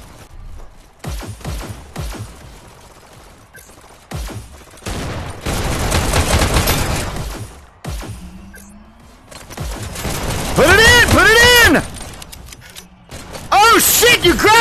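Rapid bursts of gunfire in a VR video game, loud and close, with mechanical clicks and ratcheting weapon sounds between volleys and shouting voices intermittently over the action.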